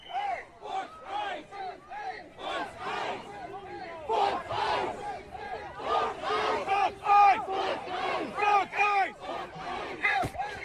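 A large crowd of protesters in Minneapolis chants and shouts in rhythmic, repeated bursts, loud and close throughout.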